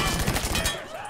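Rapid enemy gunfire in Mafia 3, a dense burst of repeated shots packed into about a second, loud and close, fading out toward the end.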